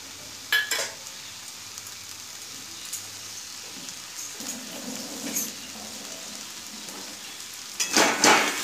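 Chicken chop filling with tomato sauce being stirred in a hot pan, a steady soft sizzle broken by scraping and clattering strokes of the spoon, louder bursts near the start and end, close up with no voices.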